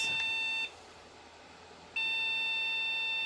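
A Pentium mini PC, freshly fitted with memory, sounds a long continuous high error beep at power-on that breaks off briefly and then resumes, loud and close with no voices.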